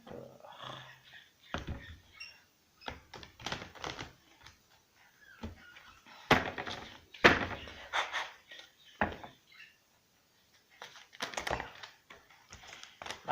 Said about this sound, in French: On me demande de battre les cartes encore.